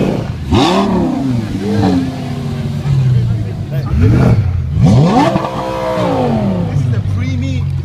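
A supercar's exhaust rasps through several rising and falling revs, loud and close, with people talking over the engine noise.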